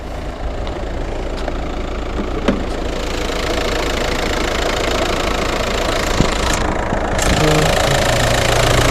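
An Audi A3 1.9 TDI diesel engine idles steadily with a constant low rumble and slight knocking, close by, running the whole time with no other sounds.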